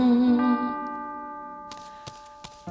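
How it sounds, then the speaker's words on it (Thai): A clock bell chimes twelve times, ringing out and slowly fading, followed by a few sharp clock ticks. "เสียงดังสิบสองทีได้ยินเสียงระฆัง"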